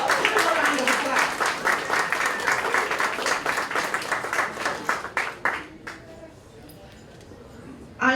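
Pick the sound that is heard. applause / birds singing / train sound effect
applause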